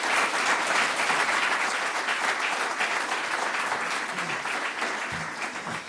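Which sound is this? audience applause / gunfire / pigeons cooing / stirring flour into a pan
audience applause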